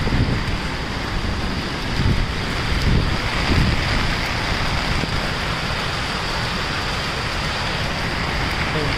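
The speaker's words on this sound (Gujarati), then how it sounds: "સવારના 7 વાગ્યાનો વરસાદ છે" Steady morning monsoon rain falls on Ashadhi Bij in Gujarat, a dense continuous hiss of drops hitting surfaces with a little wind, close and unbroken throughout with no voices.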